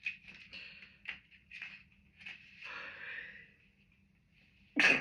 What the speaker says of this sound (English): We're going to sneeze in a minute.